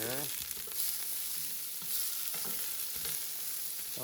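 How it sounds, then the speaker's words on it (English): Dried chile de arbol frying in oil in a pan, a loud continuous sizzle with crackling splatter and stirring scrapes, close up, with no voices. "I'm gonna cook these puppies until they are nice and charred. Oil splatter in here."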